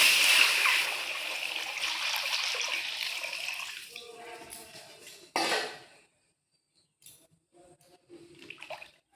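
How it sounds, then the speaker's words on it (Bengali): One litre of liquid milk is poured into a kadai for sabu payesh. A steady pouring splash lasts about four seconds, then fades out into a few faint clinks and kitchen sounds. "এখন এই কড়ার মধ্যে দিয়ে দিচ্ছি 1 লিটার লিকুইড দুধ।"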